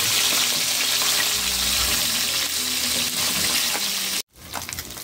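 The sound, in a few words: fish frying in oil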